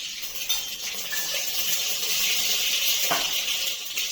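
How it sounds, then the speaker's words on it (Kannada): Mustard seeds splutter in hot oil inside a pressure cooker on a stove, a steady sizzling hiss with small sharp pops, one stronger crackle near the end, close and fairly loud, no voices. "ಸಾಸಿವೆ ಸಿಡಿತಾ ಇದೆ"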